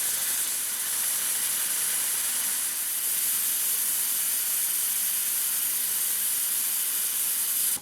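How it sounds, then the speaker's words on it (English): Air hisses steadily out of a tire through a RapidFlow tire deflator while airing down toward 15 psi, a loud, even, unbroken hiss that runs close by for several seconds and then cuts off. "In this example, we will air down our tire to 15 psi."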